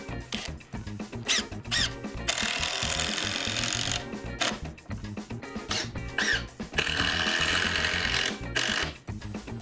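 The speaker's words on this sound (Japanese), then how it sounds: "下の板材が歪んでいる部分は、根太の下に小さな木材を入れて、水平に調整しながらビスを打つ" Screws being driven into floor joists while subfloor boards are levelled with small wood shims during a renovation, giving bursts of loud tool noise with broadband whirring stretches and knocks, close up and with no talk.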